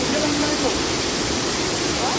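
Rushing water at Alakapuri waterfall in Kannur, a steady broadband roar that fills the clip continuously at close range, with faint voices in the background.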